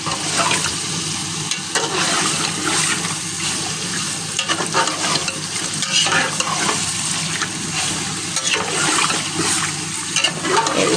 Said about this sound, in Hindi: इसको भी हम अच्छे से फ्राई कर लेंगे।